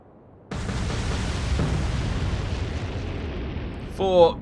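Torpedo hits exploding against the battleship King George in the naval game Atlantic Fleet: a sudden loud blast followed by a long rumbling roar, with a short vocal sound at the very end.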